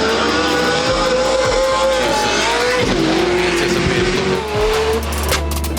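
A Nissan S15 drift car with fuel suspension on GT radial tires squeals through a slide at the Type S Throwdown, a long wavering screech under engine revs and bouncing off limiter, with a commentator talking over it.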